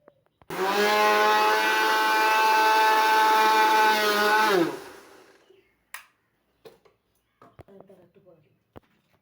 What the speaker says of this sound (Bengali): ধনে গুঁড়ো সব দিয়ে দিলাম মিক্সিতে একটু পিষে নেব আমি